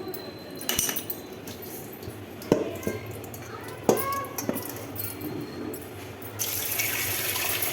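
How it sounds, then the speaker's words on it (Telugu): Chicken pieces being washed under a running kitchen tap, with a continuous gush of water, occasional clanks of a metal vessel, and a louder, brighter rush of flow toward the end. "శుభ్రంగా కడగాలి క్లియర్ వస్తలేదు"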